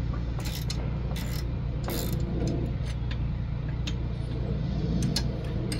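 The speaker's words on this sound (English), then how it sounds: "13 millimeter to be able to remove those nuts," Ratchet clicking while removing 13 mm bolts on the rear brakes of a 2017 Volkswagen Passat, with a few short bursts of quick metallic ticks against a steady low background.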